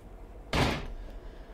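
A single loud kick slams into a door in the video game Egghead Gumpty, a close, sharp thud that fades quickly into quiet room tone with no voices.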